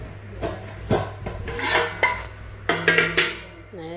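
Large stainless steel pot knocked and shuffled among Japanese pots and pans, with a series of metallic clanks and scrapes at close range, a brief voice near the end.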